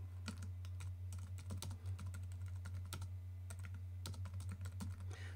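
Steady keyboard typing during computer work on marketing automation software, many light clicks in irregular bursts under a constant low electrical hum, close and fairly quiet.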